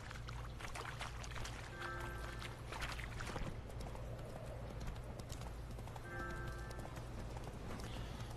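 A horse gallops in a video game, with rapid rhythmic hoofbeats running steadily throughout over a low ambient hum, and two short whinnies in between.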